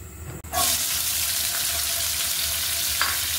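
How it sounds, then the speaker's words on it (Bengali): Ginger flower and garlic flower dropped into hot soybean oil, a sudden loud sizzle bursting in after a brief quiet moment and hissing on steadily, with faint stirring. "এই সবগুলো একটু সয়াবিন তেলে ভেজে নিব।"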